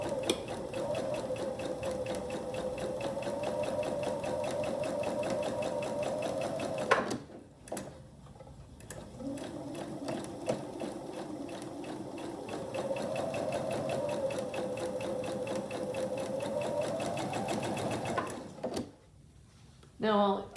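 A domestic sewing machine stitching quilt block units runs in steady whirring bursts, pausing briefly around the middle and again near the end, while a person talks quietly at times.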